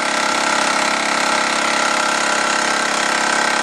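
Wilesco D222 electric steam engine running and driving a generator, a steady, loud mechanical whir with fast, even chuffing that holds unchanged throughout, close and alone without talk.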